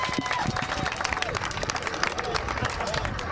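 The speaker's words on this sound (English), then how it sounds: "Let's give a big round of applause." Crowd applauding a race podium finisher at a Monster Energy King of the Elements Spring Nationals event: dense, steady clapping through the whole moment, with crowd murmur mixed in.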